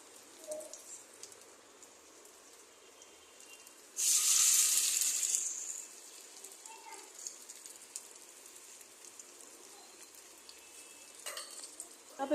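Potato pithe fry in oil over low heat, a quiet steady sizzle swelling into a louder hiss for a couple of seconds before settling back to a gentle crackle.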